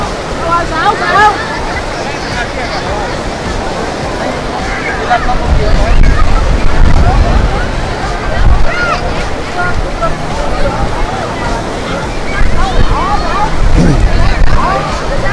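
Sea waves at Vung Tau beach crash and surge loudly in repeated swells, mixed with a busy crowd and people talking nearby.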